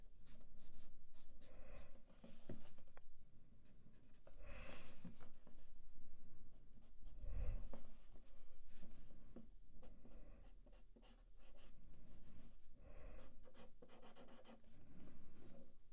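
Pen drawing on paper during a sketching session, soft scratchy strokes coming in short rhythmic bursts with brief pauses, quiet and close, with no talking.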